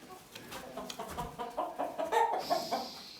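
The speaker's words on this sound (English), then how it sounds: "Happy, happy chickens." Several hens cluck and chatter in soft, overlapping bursts close by, in a backyard coop with a summer house and dust bath.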